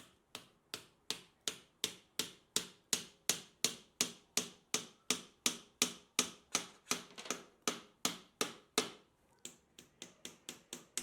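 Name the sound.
hammer nailing a mirror door frame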